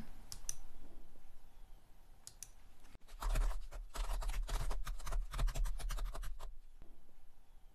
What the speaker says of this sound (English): now I'm going to type into the editor window a lame attempt at a header for our own fprintf